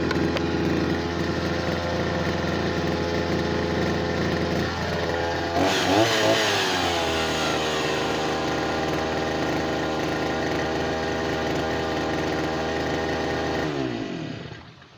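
A small two-stroke engine buzzes loudly, surges sharply in a rev partway through, settles back to a steady drone, then cuts off at the end.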